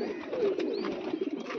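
A pigeon coos close by in soft, low repeated phrases, the gentle throaty calls rising and falling over faint background noise.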